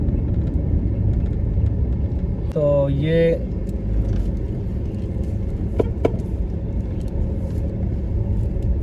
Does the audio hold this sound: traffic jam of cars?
yes